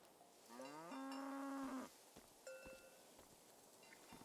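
A cow lets out one long, loud, drawn-out moo in the video game Seasons: A Letter to the Future, followed by a shorter, fainter low call, set against quiet ambient background noise.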